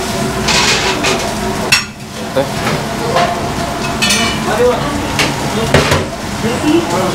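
Prawn masala frying in a pan in a seafood restaurant kitchen, a loud steady sizzle with scraping stirs and occasional metal clinks, with voices talking over it throughout.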